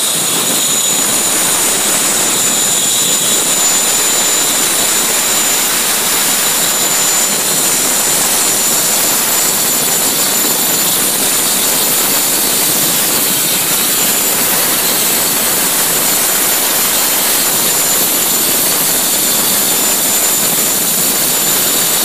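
A plasma cutter slicing through 1.5-inch-thick AR400 steel plate gives off a loud, continuous roaring hiss that stays constant and close for the whole stretch, with no voices.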